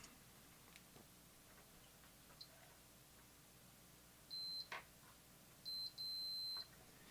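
A continuity tester beeps while traces on a Macintosh II logic board are checked: a short tone, then a longer double beep, faint against a quiet room with small handling ticks.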